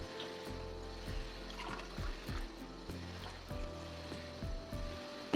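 Water, about one and a half extra cups, is poured into a cooking pot for green palav, giving a soft continuous trickle with small repeated splashes, faint and alone without talk.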